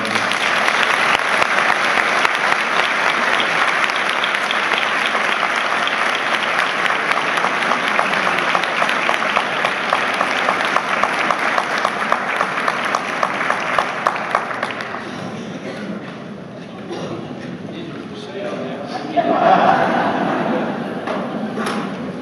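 Sustained audience applause at a luncheon welcoming a speaker, a dense steady wash of many hands clapping in a hall for about fifteen seconds, then thinning to scattered claps and a brief swell before fading.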